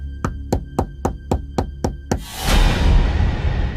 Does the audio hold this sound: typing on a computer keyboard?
no